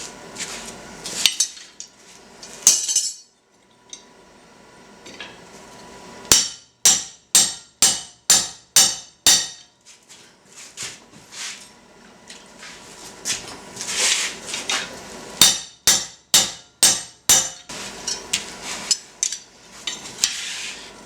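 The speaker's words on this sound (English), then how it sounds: "Now we'll punch through a pilot hole, and then we'll use the reamer to get the round hole for the link." A punch struck with a hammer drives a pilot hole through metal: loud, sharp metallic blows, some in fast evenly spaced runs of eight or more and others scattered, with clinking between them.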